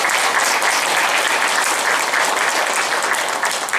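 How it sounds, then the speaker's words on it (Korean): Sustained audience applause at a Korean Buddhist commemorative performance honoring a monk being introduced, dense, even clapping from a large crowd held at steady loudness throughout, with no voices over it. "박수 한번 부탁드리겠습니다"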